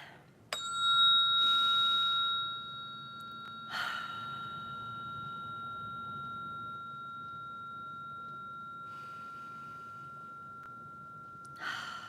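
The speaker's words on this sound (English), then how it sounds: "This is the 222 hertz fork." A 222 hertz tuning fork is struck and rings with a clear, steady tone that sustains for many seconds, then is struck again. Soft breathing can be heard faintly in the background.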